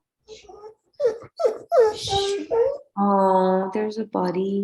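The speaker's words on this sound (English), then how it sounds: "Yeah, that's my dog." A dog whimpers and whines in several high, tonal bursts while a person talks, with its longer, louder whines coming near the end.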